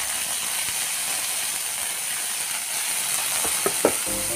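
Almonds fry in hot oil in a heated wok, giving a loud, steady close-up sizzle and hiss throughout, with a few light clinks of stirring near the end.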